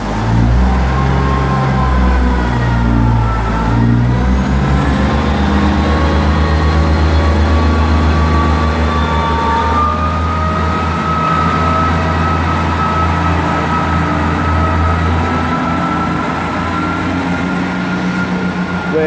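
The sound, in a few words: East Midlands passenger train departing station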